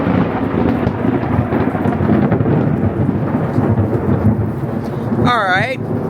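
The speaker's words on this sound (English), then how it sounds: "The Thunder wanted a chance to speak too." Loud, rolling thunder rumbles continuously through the clip, mixed with steady rain, and a short high chirp sounds near the end.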